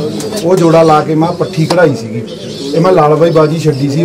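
Racing pigeons in a loft coo in throaty, rolling bursts while someone talks steadily over them, the cooing close and repeated beneath his voice.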